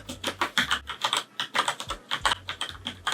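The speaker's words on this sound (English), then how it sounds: "you can hear a much more pronounced kind of clatter as you work the keys" Rapid, clattery typing on an older-generation Cherry keyboard fitted with MX Brown switches, keystrokes landing in quick uneven bursts with short pauses, close and fairly loud with no voices.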